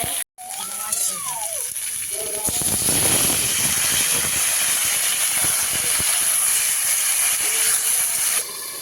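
A covered pot of jackfruit, potato and prawn curry simmers with added water, giving off a loud, steady, close hiss that swells after a brief voice and a sharp cutoff at the start.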